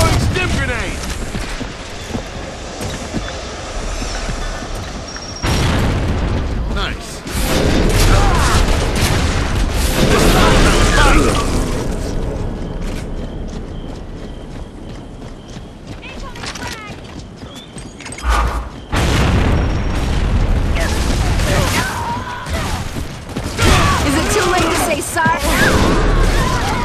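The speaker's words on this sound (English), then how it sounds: "Outgoing stim grenade!" A stim grenade blast and gunfire in Gears of War: Judgment during a team deathmatch on the Gondola map. Heavy booming bursts and rattling shots rise and fall across a long, dense battle, with voices talking in places.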